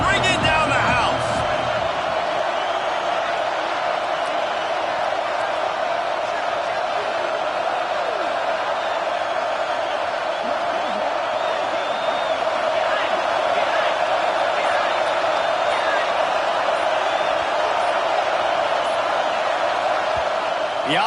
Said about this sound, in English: Third down, and this crowd is bringing down the house.